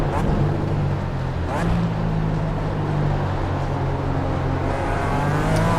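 Sustained engine drone of a BMW race car in the iRacing sim game, a steady near tone with a brief throttle shift, running continuously under a commentator's voice.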